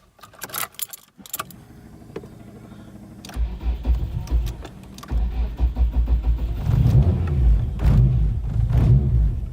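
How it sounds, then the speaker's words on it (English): Keys jangle close by, then an SR20-swapped Nissan Bluebird, cold after sitting all winter, cranks and fires into a rough, lumpy idle that grows louder and uneven, with pulsing engine rumble throughout. "I'll start it up and we'll take it out for a quick spin"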